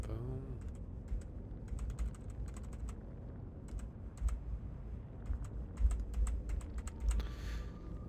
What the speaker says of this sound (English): My keyboard is spazzing out, maybe?